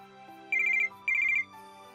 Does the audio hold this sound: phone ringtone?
yes